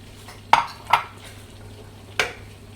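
Vegetables are stirred into white sauce in a pan for a vegetable bake: three sharp utensil scrapes and knocks against the pan stand out over a quiet background hum, with no talking.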